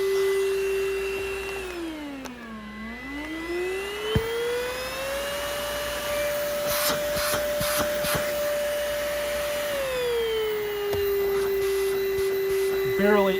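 Cheap stick vacuum cleaner bought from Amazon running on its low setting, a steady whine that dips in pitch then rises and holds higher before settling back, loud and close with no talk.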